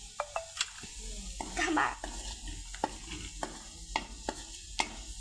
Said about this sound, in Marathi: कांदा परतून द्यायचा मस्त लाल छान